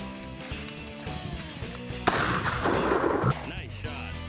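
A shotgun blast during an outdoor chukar hunt: one sudden burst of noise that rings out for about a second, with scattered voices and field sounds around it.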